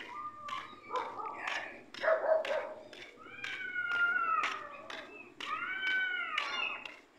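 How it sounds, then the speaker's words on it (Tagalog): A cat meows repeatedly in quick succession, loud and close, a run of rising and falling cries with a faint low hum underneath. "Iyak ang pusa."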